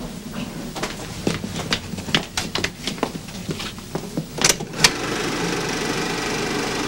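Film projector with home movies threaded, starting up after some clicks and knocks, then settling into a steady, continuous mechanical whirring hum.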